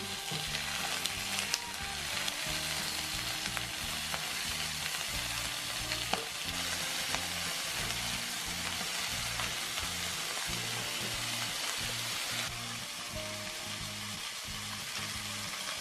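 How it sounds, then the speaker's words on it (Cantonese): Chicken drumettes sizzle in a shallow pan as they brown to golden and get turned over; a continuous hiss of frying fat runs under intermittent scrapes and taps from the turning. "咁煎到金黃，我哋反轉。"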